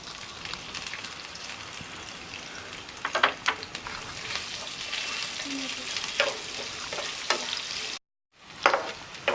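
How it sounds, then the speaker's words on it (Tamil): Chopped onions frying in a pan for carrot rice, with a steady hiss of sizzling and intermittent scraping as the spoon stirs, heard up close and continuous until a brief gap near the end. "இப்போ கொஞ்சம் வெங்காயம் வெந்துருச்சு, இன்னும் கொஞ்சம் வேகட்டும்"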